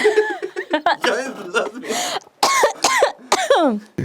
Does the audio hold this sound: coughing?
yes